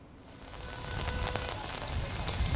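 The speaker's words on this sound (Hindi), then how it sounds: "इस बीच देखिए बारिश हो रही है यहाँ पे" Steady rain falls at the site of a deadly stampede in Hathras, Uttar Pradesh, a continuous close hiss of drops on surfaces that grows slightly louder, with no voices.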